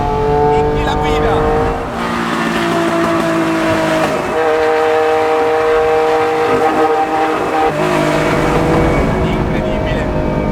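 A Lancia Stratos Alitalia Group 4 rally car with race gearing screams through the revs, its engine note climbing loud and close with a sharp upshift before pulling hard again, while a voice talks over the roar.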